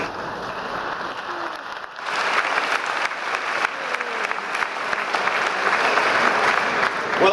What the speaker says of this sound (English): These people are worthy of our applause